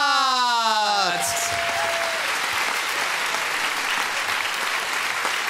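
An audience in a poetry slam venue breaks into loud, sustained applause, a dense continuous wash of clapping that swells in just after a sung or spoken vocal tone fades out, filling the room steadily.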